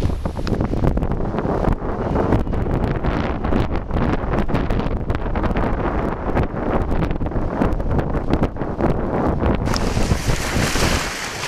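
Strong gusts buffet the microphone while waves slosh and splash nearby on Lake Opeongo in Algonquin, a loud, continuous, rough rush with no talking.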